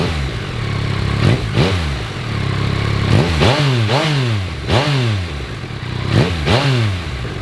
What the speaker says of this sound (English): Actually, it sounds just like any decent 4-cylinder engine, despite having just 3 cylinders.